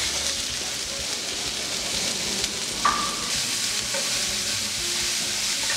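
Onion frying in a pan for a jackfruit escondidinho, a steady close sizzle with a brief clink of a utensil partway through and no talk.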